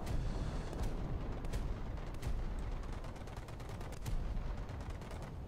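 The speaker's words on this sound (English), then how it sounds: "See, now those LMGs actually do serve a purpose." Ship-mounted light machine guns firing in War Thunder, a dense rapid rattle of shots over deep rumbling booms, loud and continuous for several seconds with no talking.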